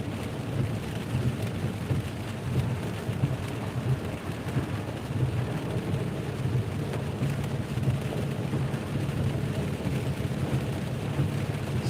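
Heavy rain pours down outside a car, a dense, continuous drumming roar with low rumbling underneath, steady in level throughout and without any talk over it.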